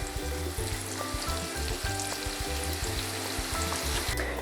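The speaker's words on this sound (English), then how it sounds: "Okay guys, I've got the pasta. It's at a rapid boil now." Pasta at a rapid boil in a pot for a macaroni and bacon dish, a steady close bubbling and sizzling churn that runs loud and unbroken with no voices.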